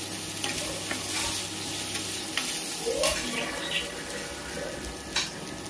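Green peas and asafoetida frying in a pan, a steady sizzle with scattered stirring scrapes and a few sharper clinks.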